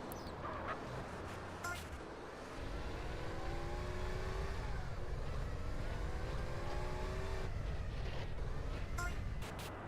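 A car in GTA San Andreas drives along dirt roads in the Badlands, its engine droning and rising through gear changes with a steady rumble, while someone talks over it.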